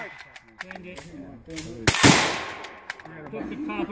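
A single loud gunshot cracks out sharply at an outdoor shooting event, standing out against quieter background sounds and nearby talk.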